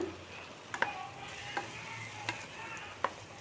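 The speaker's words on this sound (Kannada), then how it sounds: "ಈಗ ಬೀಟ್ರೋಟ್ ಹಾಕೋತೀನಿ ಈಗ ಅದ್ರ ಜೊತೆ ಮಿಕ್ಸ್ ಮಾಡಿಬಿಡೋಣ" Chopped beetroot frying in a pan for beetroot palya, stirred with a few sharp scraping knocks against a steady low sizzle, close and moderately quiet with no talking.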